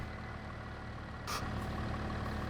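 Tractor engine idling in Farming Simulator 25, a steady low drone with a faint whine that carries throughout, broken once by a short hiss-like burst midway, with no voices.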